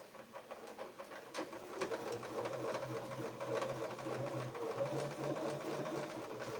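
A sewing machine runs steadily while stitching a quilting template, a continuous rapid mechanical hum with needle chatter lasting throughout at moderate volume, with no speech.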